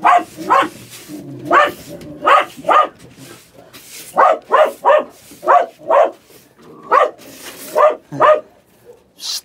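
A dog barks repeatedly in an uneven rhythm, loud and fairly close, with brief pauses between bursts.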